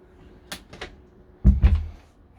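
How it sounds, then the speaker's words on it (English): A few light knocks and rattles, then a heavier thud and clunk as a Mercedes motorhome door is pulled shut nearby. "Let's close off this door."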